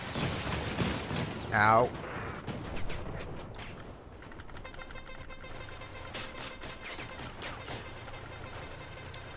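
Gunfire and explosions from Crossout vehicle combat, with shotgun blasts and rocket hits, crackle in rapid bursts under a player's talk and a brief yelp, then settle into a softer run of clattering shots and engine drone.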